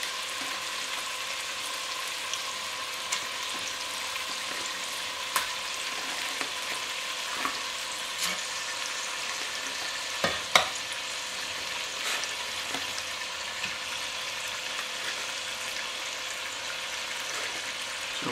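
Rabbit pieces for a hunter's stew frying in a large, crowded pan, a loud continuous sizzle close up with occasional clinks and scrapes of stirring, no talking.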